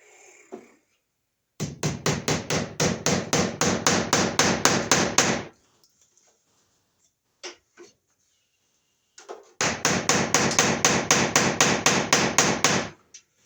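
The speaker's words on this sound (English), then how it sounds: "I like using this little hammer because that way if you hit the wire you don't hit it hard" A small hammer taps rapidly and steadily, driving wire staples into framing, in two long bursts, about a dozen sharp strikes each, close by, with a brief quiet gap between.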